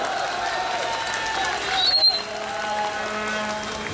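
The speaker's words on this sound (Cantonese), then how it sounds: "俾一次最熱烈嘅掌聲，公民黨嘅4位朋友" A crowd at a Hong Kong Civic Party street rally in July 2011 applauds and cheers, producing a steady wash of clapping with a brief louder swell midway.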